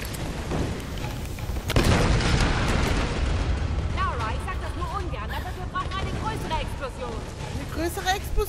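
A loud, broad explosion bursts out in the Tomb Raider video game about two seconds in, then fades into a rumbling din of game sounds with voices talking over it.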